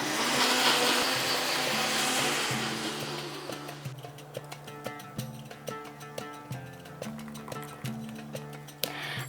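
A blender grinding grated carrot and vegetables with yogurt and no added water, a loud whirring run that drops into rhythmic ticking pulses of the jar's contents, close and without talk.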